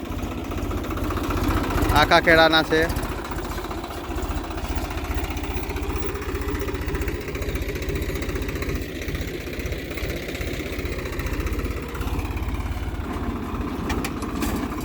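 A tractor engine runs steadily nearby on a farm, pulling a pigeon pea seed-sowing machine, a low rumbling drone throughout, while people talk over it.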